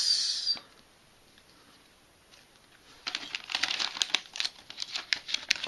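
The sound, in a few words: crinkling plastic bags of building set pieces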